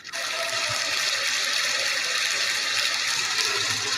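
A water sound effect much like a toilet flush: a steady, loud, close rushing gush of water that holds for about four seconds with no speech over it.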